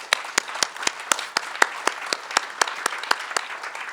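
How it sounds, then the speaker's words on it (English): A crowd at a Veterans Day ceremony applauds armed forces members with loud, close, evenly paced rhythmic clapping that sounds together throughout. "Can we give them another round of applause?"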